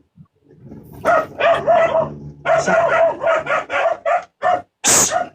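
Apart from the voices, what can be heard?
dog barking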